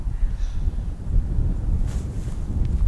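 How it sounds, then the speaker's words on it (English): Wind blowing outdoors during a husband-and-wife throwing challenge, heard as a steady low rumble buffeting the microphone, with a faint rustle on top and no one speaking. "By the way, the wind's blowing."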